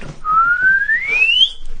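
A single rising whistled note, bright and clear, sliding steadily upward before stopping abruptly, like a penny whistle, heard alone and close.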